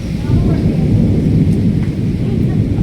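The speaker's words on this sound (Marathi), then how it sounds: "पावसाला सुरुवात झाली आहे इकडे. गाजतंय पण विजा पण कडकडत आहेत." Thunderstorm with heavy rain near a village temple: a loud, continuous low rumble of thunder blends with a steady wash of falling rain for the whole stretch, and no one speaks.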